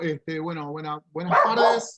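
During an online panel a speaker's pet dog lets out a loud burst of barking right at the end, after a man greets the group in a clear voice.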